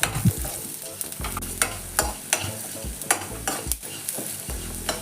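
Three dried red chillies roasting in a pan with stirring, a steady frying hiss broken by sharp repeated scrapes and clinks of a spoon against the metal, close and fairly loud with no talk.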